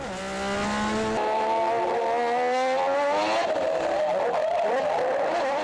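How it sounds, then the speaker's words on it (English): A drift race car in competition screams through high revs with a rising, sustained engine whine and tire squeal, loud and continuous, shifting pitch as it slides through the course. "He displays his amazing drifting techniques in the second round"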